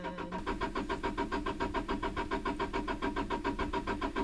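A farm truck's starter cranks the engine over and over in a fast, regular rhythm without catching, loud and close throughout with no talking.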